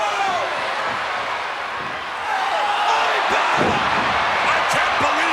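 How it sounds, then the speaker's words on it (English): Wrestling arena crowd cheering loudly throughout a tag-team match, with a few sharp thuds of bodies slamming onto the ring mat and an excited commentator talking over the noise. "He slammed both of them."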